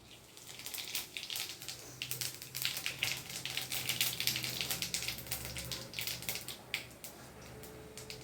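Cumin seeds fry in hot oil with bay leaf and dried red chili for a meat curry, making a faint, steady sizzle dense with tiny crackles and pops, close up and without talk.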